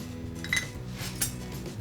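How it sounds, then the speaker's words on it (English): Pieces of coal dropped into a steel bowl: a couple of quick metallic clinks and taps, close and fairly soft, over a faint background hum. "I'm going to do is to place these coal pieces in a steel bowl"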